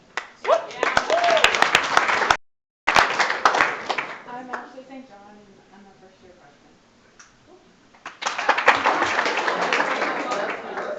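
Clapping from an audience at a city council meeting, bursts of many hands at the start and again near the end, with a person talking in between as the clapping dies down.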